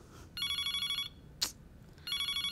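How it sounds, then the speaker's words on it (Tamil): Telephone ringing in bursts of rapid electronic trilling, with a brief sharp click between the two bursts, fairly close and with no voices. "என்னங்க ஃபோன் அடிக்குது பாருங்க."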